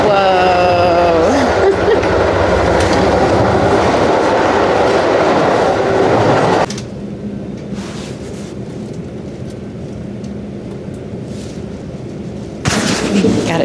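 Steady rumble and rattle of a moving Amtrak passenger train from inside a carriage, loud at first, dropping quieter midway, then swelling again near the end.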